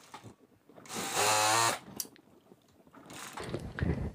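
A sewing machine stitching fabric for half pants gives one short, fast whirring burst, surrounded by quieter handling rustles and clicks.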